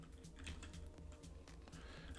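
Typing a domain name on a computer keyboard: quiet, steady patter of key clicks at close range, faint and continuous with no talking.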